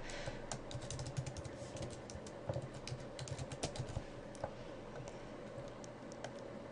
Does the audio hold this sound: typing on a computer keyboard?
yes